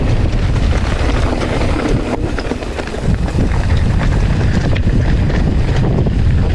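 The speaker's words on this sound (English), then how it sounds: "very windy." Strong wind roars and buffets the microphone steadily on a Mt Canobolas mountain bike trail, a loud, continuous broadband rush with gusts and brief dips, no talking.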